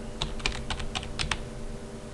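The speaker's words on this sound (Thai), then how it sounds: "ก็จะพิมพ์คำว่า operand" A computer keyboard is typed on while entering C++ code, a burst of close, crisp key clicks in an uneven rhythm over a low steady room hum, with no voices.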